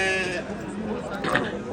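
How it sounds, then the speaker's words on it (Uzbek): Sheep bleat at the Bogdot livestock bazaar, with a loud nearby bleat at the start and fainter ones following beneath steady crowd chatter and talking. "boshlanishiga qo'ylarimiz chiqyapti"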